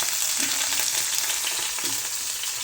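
Curry leaves dropped into hot oil with cumin seeds for tempering a potato amti spit and crackle in a steady, close sizzle, with a few louder pops standing out over the constant hiss.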